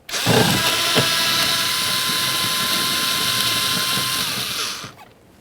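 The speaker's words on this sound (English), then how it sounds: "you have a T27 Torx screw. Go ahead and remove that." A power driver spins steadily to back out a T27 Torx screw from a side mirror mount on a 2008-2017 Buick Enclave, running loud and close for about four seconds before winding down and stopping.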